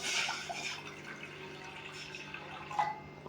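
Water pours into a saucepan set on a medium flame, a steady liquid splash and trickle with a few drips, close and fairly quiet, with no talking.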